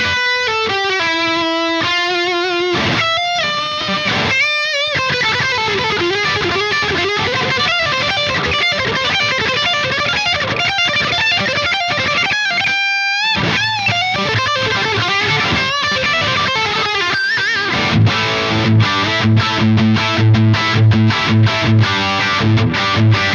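An electric guitar runs through an amplifier's lead channel with heavy distortion, playing loud, sustained riffs and sliding notes with brief stops, ending in chunky chugging palm-muted chords.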